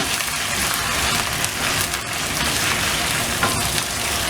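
Fresh chicken, a kilo of it, sizzles steadily in a pan with lightly browned onions as it cooks for a chicken curry, a dense continuous frying hiss with occasional faint scrapes and no talking.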